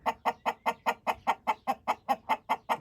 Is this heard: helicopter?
no